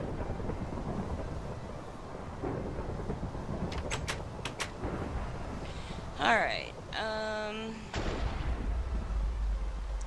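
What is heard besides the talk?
thunderstorm with lightning in Minecraft video game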